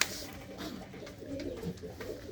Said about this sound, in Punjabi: ਤੁਹਾਨੂੰ ਦਿਖਾਉਨੇ ਆਪਾਂ ਇਸ ਖੁੱਡੇ ਦੇ ਕਬੂਤਰ